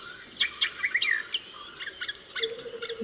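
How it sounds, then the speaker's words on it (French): Recorded birdsong from a plush pony toy, a series of bright chirps and tweets in quick irregular bursts, fairly soft and close, with no talking. "On entend des oiseaux."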